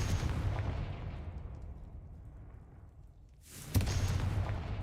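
The Confringo spell goes off in Hogwarts Legacy as a heavy, booming blast that fades out over a few seconds, then a second loud burst follows near the end.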